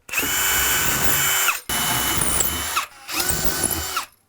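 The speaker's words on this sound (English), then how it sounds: "then I'll drill through this way" Three bursts of a power drill boring through a wooden cabinet, a loud whining buzz with brief pauses between each run, close to the microphone.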